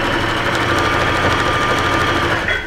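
A sewing machine runs continuously and loudly while stitching a coat, a steady close mechanical whir with rapid needle rhythm and no pauses.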